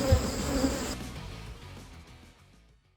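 A close swarm of honey bees hums loudly around a beehive being requeened, the dense buzzing strong at first, then thinning and fading away over a few seconds with no voices.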